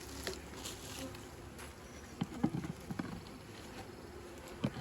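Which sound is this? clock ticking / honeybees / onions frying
honeybees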